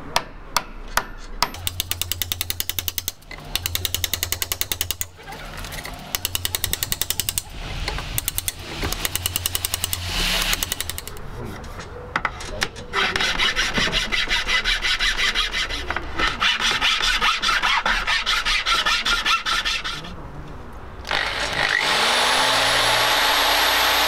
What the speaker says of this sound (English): So we have some slots cut in to chisel through